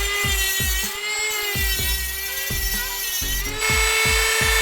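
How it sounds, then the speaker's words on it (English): A Dremel rotary tool with a cutoff disc slices through a small metal pin, giving a steady high whine with a rhythmic, repeated grinding pulse throughout, close and fairly loud. "then we're gonna cut it off with the Dremel real quick"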